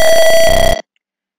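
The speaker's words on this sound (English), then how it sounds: "the PIR sensor detects the movement of any pest and alerts us using the buzzer." Buzzer of a PIR-sensor pest detector circuit in a soil moisture project, a loud steady electronic tone lasting under a second and cutting off abruptly.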